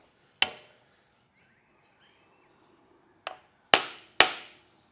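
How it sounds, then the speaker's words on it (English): A hammer taps a workpiece down into a vise in a machining shop, four sharp metallic strikes, one alone and then three close together, with quiet between them. "Give that a tap down, nice and firm."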